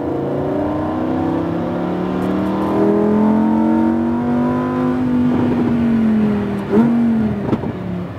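A Lamborghini Huracan LP accelerates hard on a track, its engine note rising steadily in pitch as it pulls through the gears, loud and close with a brief shift blip near the end.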